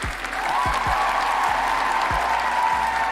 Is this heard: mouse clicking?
no